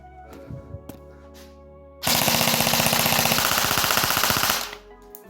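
Homemade airsoft gun built around a straw firing a rapid, steady burst of loud, evenly spaced clattering shots for about two and a half seconds, after a few faint clicks and handling noises.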